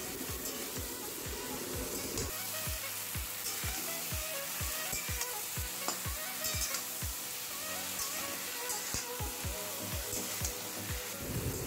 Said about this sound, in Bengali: রাঁধুনি বাটা, দিয়ে সমস্ত উপকরণ একসাথে মিশিয়ে নেব।